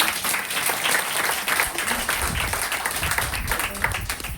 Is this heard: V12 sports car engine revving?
no